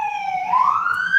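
An emergency vehicle siren passes through Chapala, a loud wailing tone that sweeps upward as it goes by, heard alone with no talk over it.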